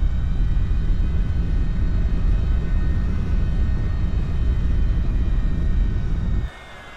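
Number 2 engine thrust reverser in the Prepar3D flight simulator, a steady loud jet roar holding evenly for several seconds before cutting off abruptly near the end.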